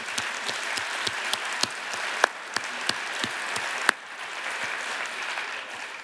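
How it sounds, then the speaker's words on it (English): An audience gives a sustained round of applause at a Rotary talk, steady dense clapping with a few sharp louder claps standing out, continuing alone at an even level for the whole stretch without easing off. "can we please give everyone that had their hand up a massive round of applause"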